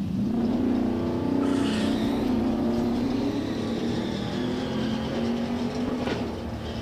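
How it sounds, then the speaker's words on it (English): A drag race car spins its wheels all the way down the quarter mile, a loud, continuous engine roar with rising and falling revs as it fights for traction, heard close and unbroken. "Carl Goldsmith wheel spinning all the way up the quarter mile, trying to find some traction"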